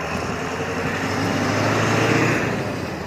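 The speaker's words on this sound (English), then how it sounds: "you might hear a whole bunch of cars going by" Heavy traffic on a busy street keeps up a steady broadband roar with a low engine rumble underneath, swelling slightly mid-way as vehicles pass close by, with no voices.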